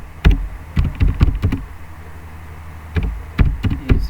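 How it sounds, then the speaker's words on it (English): Typing on a computer keyboard: loud, close key clicks in two quick bursts separated by a short pause, with no voices. "Then I'm going to type a question about true or false."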